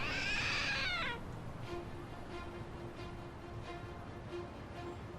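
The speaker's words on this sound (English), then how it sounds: "It meowed." A trick statue in Lost Judgment gives out a single loud, wavering cat-like meow lasting about a second, followed by a quieter bed of ambient game sound.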